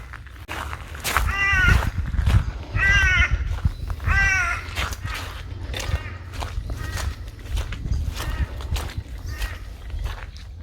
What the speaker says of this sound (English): Got some crows around.